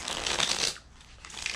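Tarot cards riffled and shuffled by hand in a quick, papery flurry of soft slaps and fluttering edges that eases off partway through, close and fairly quiet.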